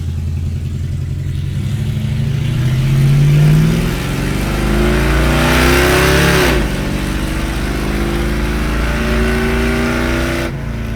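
A 1973 Plymouth Duster on a road test, its engine heard from inside the car, revving up and climbing through the gears, with a loud steady drone, rising pitch sweeps and a shift near the end.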